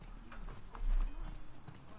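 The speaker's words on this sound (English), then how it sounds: "Oh my god, I love horses so much." Horse hooves clip-clopping in The Last of Us Part II video game, a soft steady walking rhythm under someone talking excitedly over it.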